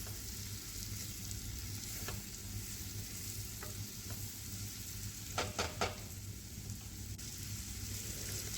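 Mushrooms fry in butter with garlic and chopped chilli, giving a continuous gentle sizzle under quiet stirring, with a brief cluster of utensil scrapes and taps near the end; no voices.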